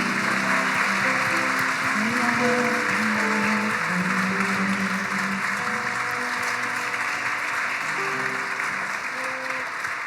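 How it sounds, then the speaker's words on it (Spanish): Sustained applause from a large church congregation fills the whole stretch, steady and loud, with a few voices and musical tones faintly underneath. "Dale un aplauso a Él."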